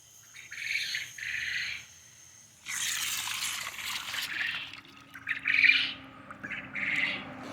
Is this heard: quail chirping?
yes